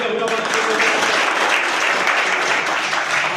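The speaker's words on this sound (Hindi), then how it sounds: "आप लोगों से मैं चाहूँगा कि एक बार ताली बजा करके" A crowd at a political party meeting applauds to welcome a visiting guest, dense continuous clapping from many hands, loud and close, filling the whole stretch without a break.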